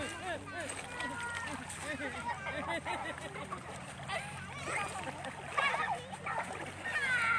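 Children splashing and playing in the sea at high tide, with water splashes and excited voices overlapping throughout against steady surf wash, close and lively.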